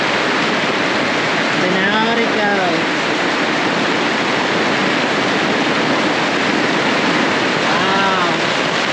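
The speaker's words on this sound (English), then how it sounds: "Now, this is definitely what I consider a monsoon." Heavy monsoon rain pours down while floodwater rushes across a road, making a loud, unbroken roar of water. Someone speaks briefly over it twice.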